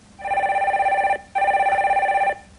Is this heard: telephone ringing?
yes